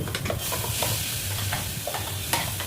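Asafoetida frying in hot oil for a tomato kurma: a steady, close sizzle with light stirring scrapes and a few sharp pops, no voices.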